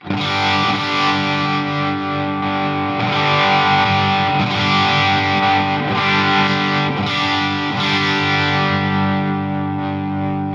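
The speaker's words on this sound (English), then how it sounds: "Clipping on the distortion here." A heavily distorted electric guitar through a Line 6 Helix distortion effect drones on sustained, buzzing chords, loud and saturated throughout with no pauses.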